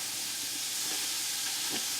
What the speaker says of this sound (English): So we're going to stir that tomato paste on up in there.